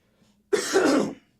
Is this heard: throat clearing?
yes